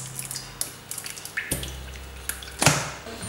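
Cooking oil poured into a frying pan while making beer-braised chicken: faint, brief liquid drips and splashes that come in a few bursts, with one louder splash near the end.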